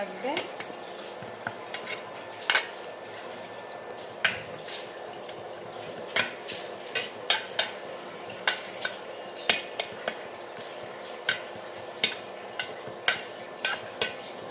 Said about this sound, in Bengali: এবার আমি ঢাকনাটা তুলে নিলাম নেড়ে চেড়ে দিব